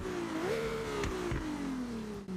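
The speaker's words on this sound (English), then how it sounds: "It's a 3-liter twin-turbo V6. It must be a modern Ferrari engine" A modern Ferrari 3-liter twin-turbo V6 engine swapped into an Alfa Romeo Giulia GTAM in Forza Horizon revs in a steady, close drone, its pitch rising briefly and then sagging slowly, with a short dip at the end.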